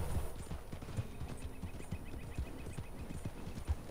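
Horse hooves clip-clop steadily in Red Dead Redemption 2, a fairly quiet, regular walking rhythm of soft thuds over a faint ambient bed, with no talk.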